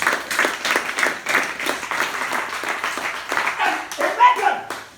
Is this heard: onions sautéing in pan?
no